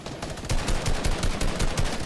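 Rapid bursts of gunfire from an online arena shooter game crackle in quick succession, a fast rhythmic volley of shots that stays moderately loud throughout.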